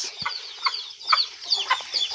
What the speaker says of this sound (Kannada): ಫುಲ್ ಆಫ್ ನಾಟಿ ಕೋಳಿಸ್